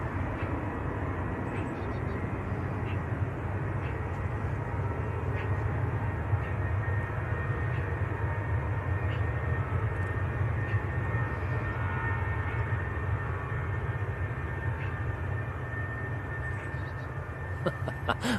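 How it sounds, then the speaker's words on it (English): A Jet2 airliner's engine rumbles at near full power in the engine test bay at Manchester Airport, a steady distant low roar with a constant hum, unbroken throughout. "You can really hear the rumbling now. That Jet 2 is pretty much on full power in the engine test bay."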